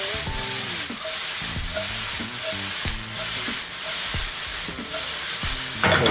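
Shrimp tossed and stirred in a hot pan for keto shrimp and grits: constant loud sizzling, broken every second or so by the scrape and clink of a utensil against the pan, with a louder burst at the end.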